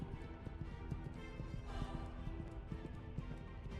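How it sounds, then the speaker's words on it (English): Horse hooves drum in a rapid, rolling clip-clop in the Love & Deepspace video game, steady and moderately loud with a rumbling, thunder-like undertone and no voices. "Reminiscent of thunder, the sound of horse hooves approaches."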